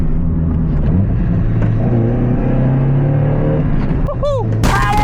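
A Mazda Miata's engine revs hard under load, then a quick downshift into fourth gear brings a sharp blip and rising revs heading into a bend, loud and close from inside the car.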